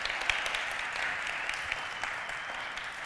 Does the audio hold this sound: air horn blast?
no